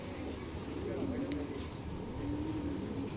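A silver-eyed foreign male racing pigeon from a red checker line gives a few low, soft coos nearby, with a voice murmuring faintly behind.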